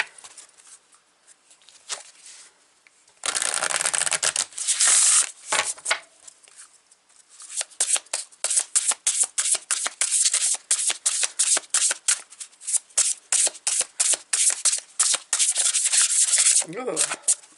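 Oracle cards are shuffled by hand for a reading: a long rubbing burst, then a fast, rhythmic run of riffling strokes, close and fairly loud, with no talk.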